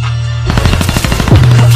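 Rapid automatic gunfire from a weapon in Black Ops 3 Zombies, a quick burst of about a dozen close, loud shots in steady rhythm over a low game drone, with no talk.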